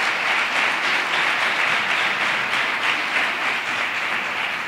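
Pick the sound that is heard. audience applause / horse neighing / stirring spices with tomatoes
audience applause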